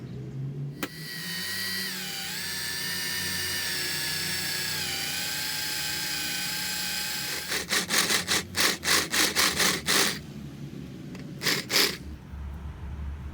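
A drill bores a hole through a forged small steel rod, giving a steady high whine that then breaks into a series of rhythmic grinding pulses near the end, with no talking.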